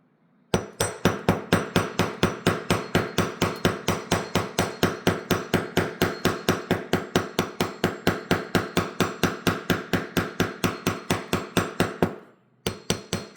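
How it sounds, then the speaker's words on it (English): Rapid, steady hammer blows from an old hammer striking wire being hardened for a drilled-stone bracelet, dozens of close, loud metallic taps in even rhythm with a brief pause near the end. "This is a great hammer."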